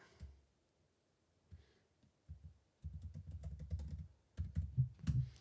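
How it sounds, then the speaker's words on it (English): Typing on a computer keyboard, starting with sparse, soft keystrokes and then building into quicker, denser bursts of clicks, recorded fairly close in an otherwise quiet room with no voices. "Let's see here if I can type."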